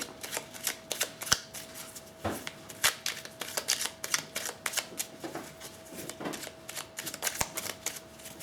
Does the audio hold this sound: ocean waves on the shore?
no